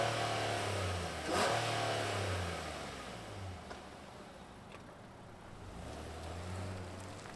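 A 2024 Infiniti QX60 Autograph engine starts and revs, a mid-pitched hum rising in short throttle blips and settling back to a smooth idle, heard close and fairly quiet.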